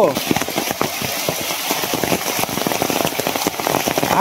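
Steady rain pours down outdoors, a dense continuous patter close by with a few brief louder knocks, and faint voices mixed into the wash of drops.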